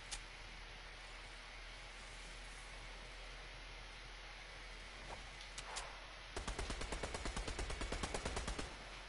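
Rapid automatic gunfire in the Fortnite arena video game, a few isolated shots early on, then a dense burst of rapid shots near the end over a steady noisy background.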